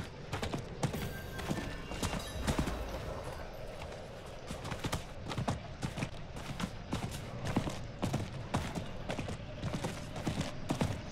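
Horse hooves clip-clop in a steady trotting rhythm while riding in the video game Diablo IV, loud and close, with faint background game ambience.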